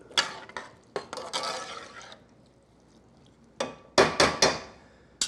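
A spoon stirs a yakitori tare sauce with about a cup of water in a pot, giving clinks and knocks against the pot with a soft sloshing scrape between them. No one speaks.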